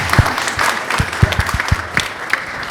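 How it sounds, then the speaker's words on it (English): An audience at a panel event applauds the panelists, giving continuous clapping with several sharp, close individual claps standing out over the crowd. "And a round of applause for Rick, please, also for his time."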